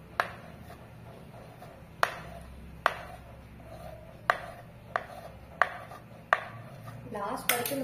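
Layered parotta dough cut with a knife on a hard surface, sharp distinct chops spaced about a second apart, clear and close, with no one speaking.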